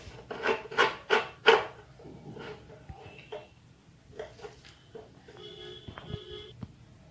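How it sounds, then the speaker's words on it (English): A mini drafter being unscrewed and fitted onto a drawing table: a few scraping, rubbing bursts near the start, then quieter clicks and light metallic handling sounds close by. "we unscrew this and we fit it into the leftmost corner of the table"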